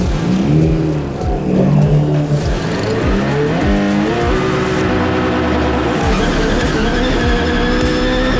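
A race car on a hill climb revs hard and climbs through its gears, each run-up cut by a quick shift, loud and continuous, with a brief squeal of tires.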